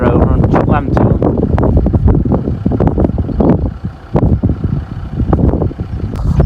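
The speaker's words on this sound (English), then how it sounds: "the wind is making a serious mess of my hair" Strong wind buffets the microphone outdoors on a cattle farm, a loud continuous rumbling roar under a man's speech.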